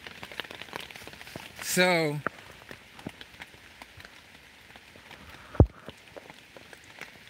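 Rain patters steadily on a tarp shelter, a soft continuous hiss of drops with a brief louder rustle near the start and a sharp knock later, and one short spoken word.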